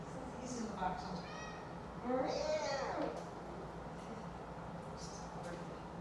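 A cat meows a few times at close range, with a longer rising-falling meow in the middle, over a low steady background hum.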